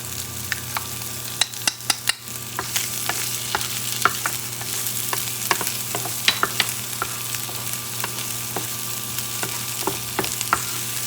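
Onions frying in a pan, a loud, close, steady sizzle with a few sharp crackles and pops, continuous and with no talking.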